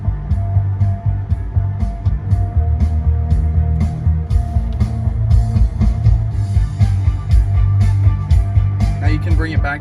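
Bass-heavy music plays through the sound system of a 2021 Mercedes-Benz S-Class, with dense low tones and steady pounding bass filling the cabin loudly throughout.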